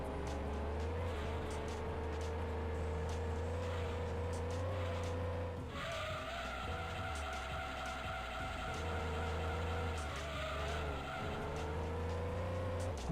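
Racing game engine drone from Gran Turismo 2 as a race car spins out, steady loud motor tones with a shift in pitch midway and tire skid noise, continuous throughout with no talking.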